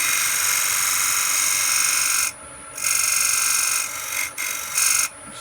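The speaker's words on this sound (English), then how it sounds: "That was a skew chisel just used there." A skew chisel cuts wood on a lathe while turning a small threaded trinket box, a steady high-pitched whine broken by several short gaps as the tool lifts off and touches the spinning workpiece again.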